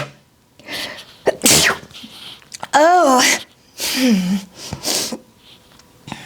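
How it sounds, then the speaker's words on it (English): A single loud, close sneeze from one person, preceded and followed by brief talking and exclamations. "Hold on, I've got to sneeze."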